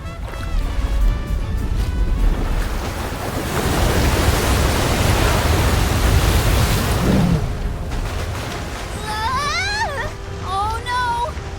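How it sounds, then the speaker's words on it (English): Ocean waves surge and crash in the fantasy role-playing game Visions of Mana, a loud broadband roar swelling through the middle, with game music and voices rising over it toward the end. "Is he trying to bust through the wall of waves with brute force?"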